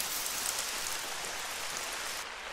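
Rain in the hunting video game theHunter: Call of the Wild, a steady even hiss of rainfall on surfaces, soft and continuous throughout with no voices.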